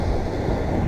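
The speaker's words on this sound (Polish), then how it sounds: "A wiatr jest w moją stronę" Low, rumbling wind buffeting a head-mounted GoPro microphone at a silage harvest with Case and Fendt tractors, a steady roar, close and fairly loud, with no voices.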